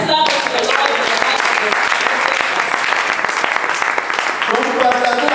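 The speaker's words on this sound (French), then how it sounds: "Let's clap for the Lord in the" Congregation clapping steadily in a cathedral church service in Lomé, Togo, a dense, loud wash of applause throughout with faint voices mixed in.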